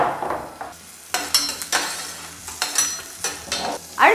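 Long-sliced large onions fry in hot olive oil with a crisp sizzle, broken by repeated sharp scrapes and clinks of a spoon stirring in the pan, close and fairly loud, with no talk.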